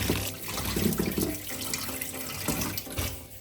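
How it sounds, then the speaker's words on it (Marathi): Tap water running into a vessel to wash sabudana (sago pearls), a continuous close splashing gush that rises and falls slightly throughout. "आता ह्याच्यामध्ये पाणी भरून ठेवायचं"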